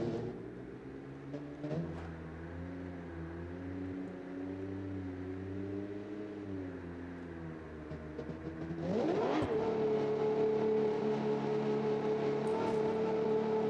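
A car engine in the BeamNG driving game holds a steady whining drone with shifting pitch, then revs up sharply and sustains a louder, higher tone near the end, with no talk over it.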